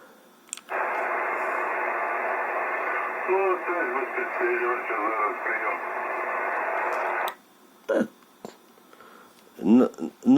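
Band-limited amateur radio static hisses for several seconds with a faint voice wavering underneath, then cuts out, leaving brief garbled bursts of transmission.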